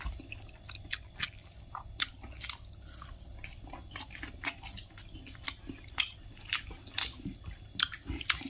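A person eats hot rice with dried fish curry. Soft, close chewing and small wet clicks and bites repeat irregularly at low volume, with no talking.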